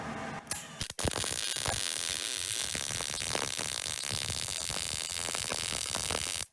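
A MIG or stick welder lays a bead on steel, giving a steady, loud crackling buzz that runs for several seconds after a brief start and cuts off abruptly at the end.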